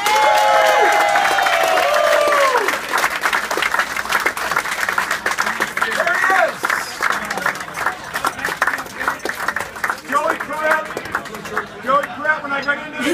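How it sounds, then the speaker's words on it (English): A crowd at a mayoral election results celebration applauds loudly, sustained clapping mixed with cheers and whoops, with chatter and shouted voices rising over it throughout. "Give him a round of applause."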